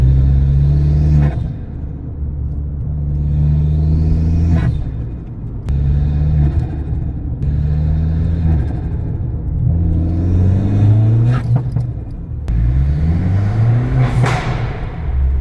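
Abarth 595 with an induction kit on a test drive, heard from inside: the engine rumbles and pulls up through repeated accelerations, each ending in a gear change, loud and continuous.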